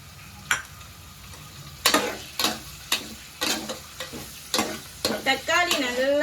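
Tomatoes frying in a pan over medium flame with a spoon stirring, each scrape landing as a sharp, close clatter at irregular intervals over a soft steady sizzle.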